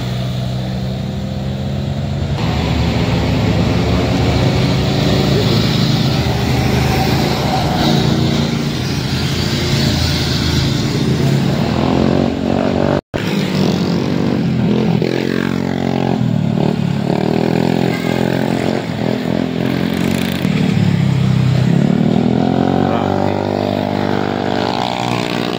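Big bike motorcycles, including a BMW GS, roar past at close range, engines revving loudly and continuously with a swelling, rising and falling drone and no talking.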